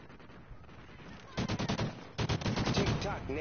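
Rapid automatic gunfire rattles off in two close bursts during a competitive video game round, sharp and loud after a quieter lead-in with faint voices in the background.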